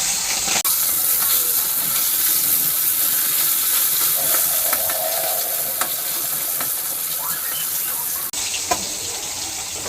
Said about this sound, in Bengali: মাছগুলো ভাজা বসিয়ে দিলাম, আগে ভাজা বসিয়ে দিয়ে তারপরে তরকারি কাটবো